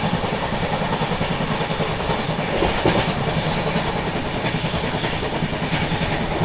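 Rajya Rani Express bound for Meerut passing on the adjacent track: loud, continuous rumble with rhythmic clickety-clack of wheels over rail joints, heard close from inside a moving train.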